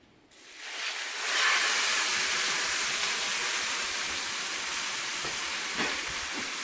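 A thick cowboy ribeye steak hits a smoking-hot pan and sears with a loud, steady sizzle and hiss that swells within the first second and holds without pause.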